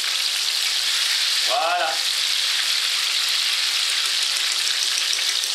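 Apple fritters frying in very hot oil, a dense continuous close sizzle that fills the whole stretch, with one brief spoken word near the start.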